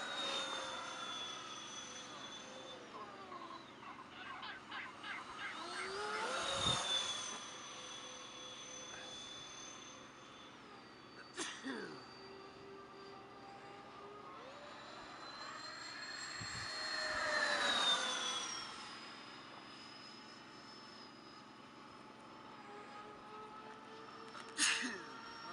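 An FMS A-10 radio-controlled model jet flies past on its maiden flight after a rebuild, its ducted-fan whine swelling and fading twice with Doppler sweeps, joined by brief clicks and thumps.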